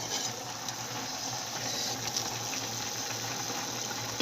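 An egg curry simmers in a pot on a home stove, giving off a steady, low bubbling and watery hiss that holds at an even level without breaks. No one speaks.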